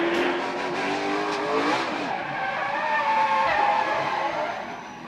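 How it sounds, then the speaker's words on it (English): A NASCAR Cup Series race car gets loose and slides down the track, tires squealing and engines roaring loudly amid other race cars, the screech sweeping and fading over several seconds. "Buescher gets loose and comes down"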